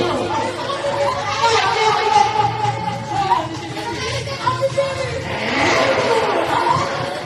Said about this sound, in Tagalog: Motor yun!